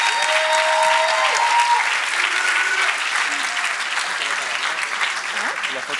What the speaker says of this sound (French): Encore une bonne main d'applaudissement pour Kimberly Carrington, s'il vous plaît.